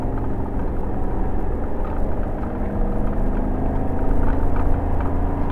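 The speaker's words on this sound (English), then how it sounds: "For the purposes of comparison, I'm driving the exact same stretch of highway." Road noise and engine drone from a vehicle on a highway, towing an Alliance Avenue 32RLS fifth-wheel trailer fitted with new Sumo Springs, a steady low rumble and whir running continuously throughout with no talk.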